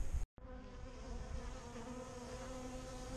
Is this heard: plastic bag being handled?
no